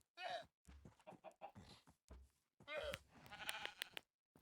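Several bleating sheep calls in a video game, shrill and wavering, separated by brief silences, with a louder stretch of overlapping bleats near the end.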